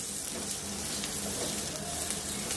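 Nigella seeds and turmeric powder sizzle in hot oil with a loud, steady, crackling hiss that fills the clip without pause.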